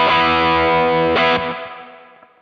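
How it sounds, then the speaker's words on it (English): A Fender Telecaster fitted with Virgil Arlo pickups and String Joy strings, played loud through a 1965 Fender Deluxe amp: a big distorted chord rings out, a second strum cuts in, then the sound decays away. "I got my Fender Telecaster with Virgil Arlo pickups and String Joy strings."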